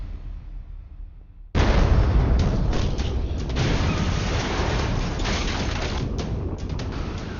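A bomb test detonation hits suddenly with a loud deep boom, then a long heavy rumble rolls on with scattered crackles and pops, filling the rest of the scene at a distance.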